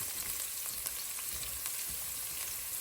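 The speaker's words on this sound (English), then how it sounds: "We're going to cook this garlic in this olive oil for about 2 minutes." Garlic frying in olive oil, a steady close sizzle with soft crackles and no talking.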